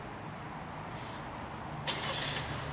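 A 2021 Chevrolet Malibu LT fires up by remote start: a steady low rumble of background noise, then the engine catches with a brief bright burst near the two-second mark and settles into a smooth, moderately loud idle.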